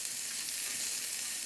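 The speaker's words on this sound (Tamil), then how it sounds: "நல்லா வதக்கி விட்டுக்கலாம்" Tomatoes sautéing in a pan with cashews, ginger and garlic, giving a steady, even hiss of frying with no break and no voices.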